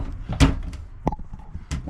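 A flimsy cabinet door inside a rented camping trailer, knocking and thudding close up in a few short bangs and rattles, with a sharper clack near the middle and another near the end.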